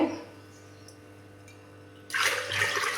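Quiet room tone, then about a liter of water suddenly pours into a pot with a loud rushing splash that continues to the end.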